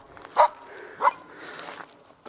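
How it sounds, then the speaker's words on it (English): A dog barks twice nearby at a house with a backyard, two short loud woofs about half a second apart, followed by faint rustling. "That's Travis's dog."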